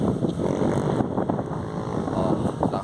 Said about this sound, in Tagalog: Oh, lakas ng hangin yan ha.